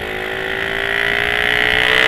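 A modified Honda C70 motorcycle fitted with a Suzuki Satria F150 engine revs loud and close, its pitch steady and its volume climbing slowly, with no voices.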